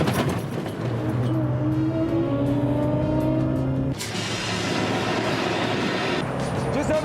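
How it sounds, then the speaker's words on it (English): Race cars pass close by a pit lane wall, engines whining and rising in pitch as they go past, with a sharp shift partway through into a rougher, louder roar and a voice briefly audible underneath. "every car that passes the pit lane wall counts as an overtake"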